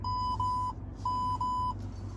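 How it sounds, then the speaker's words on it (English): Car parking sensor beeping in a parking lot: two pairs of steady, fairly loud electronic tones, each pair repeating in a regular rhythm over low engine-like rumble, with no talk. "What the heck are you beeping at?"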